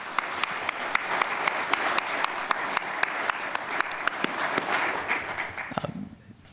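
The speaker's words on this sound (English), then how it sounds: "A round of applause for the gentleman who was born in Gila River" A crowd gathered for an event honoring a man born at Gila River claps in steady applause with several sharp, distinct individual claps standing out, fading toward the end.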